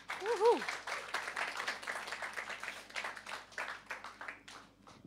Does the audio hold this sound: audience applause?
yes